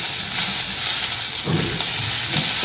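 Coriander stems sautéing in a pan for coriander paneer, a steady close sizzle and hiss of frying with brief stirring scrapes, no talking.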